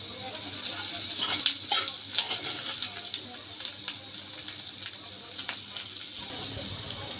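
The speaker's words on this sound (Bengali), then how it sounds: "এটাকে আমি মিডিয়াম আঁচ করে আর একটু লাল লাল করে ভেজে নিব" Cow tripe fries with browned onions in a pan over medium heat, a steady moderate sizzle with occasional stirring clatter.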